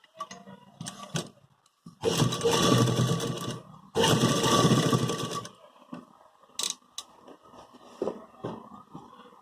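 A sewing machine stitches a ready-made collar on a suit, in two close bursts of about one and a half seconds each, separated by a brief pause and followed by lighter clicks and handling noises.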